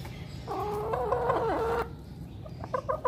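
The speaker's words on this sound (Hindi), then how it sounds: "ये देखिए हमारा देसी मुर्गा, ये हमने छोटे होते से पाला है।" A desi rooster with hens, including Aseel birds, clucking and calling in a long harmonic call, followed by a few short clucks; fairly close, with steady background noise and no talk.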